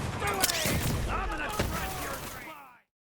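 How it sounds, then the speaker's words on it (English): An energy pulse grenade detonating in the video game Borderlands 3, a dense, loud burst of crackling and zapping with sweeping electronic tones, fading out and cutting to silence near the end. "its explosion is a pulse of energy and it teleports to its target"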